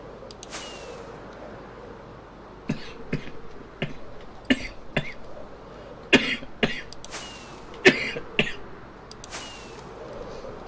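A person coughs repeatedly in short, sharp bursts, some single and some in quick pairs, spread over several seconds against a low steady background hum, with no talking.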